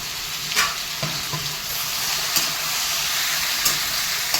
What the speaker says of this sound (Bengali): আমার আলুটা হাফ ভাজা হয়েছে